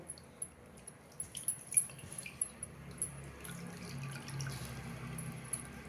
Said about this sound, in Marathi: आता आपण तो पाण्यातनं पिळून काढूया